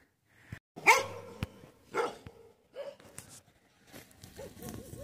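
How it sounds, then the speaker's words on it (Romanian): Several dogs bark at a rural home near a forest, giving loud, close, irregular barks in quick bursts with short gaps between them, and no talk. "Ăștia măcar latră"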